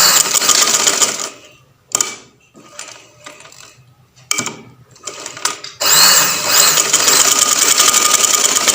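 A sewing machine stitching pleats on a shirt runs in loud, fast mechanical bursts, stopping and starting several times with quiet pauses between runs.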